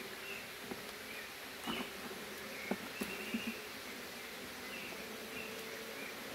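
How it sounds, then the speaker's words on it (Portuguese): A weak honeybee swarm hums softly at a hive, a faint steady buzz with a few brief louder passes of individual bees close by, no talking. "Tá muito fraco esse enxame aqui, hein?"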